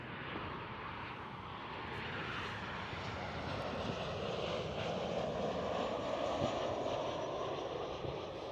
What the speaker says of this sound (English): KLM 737.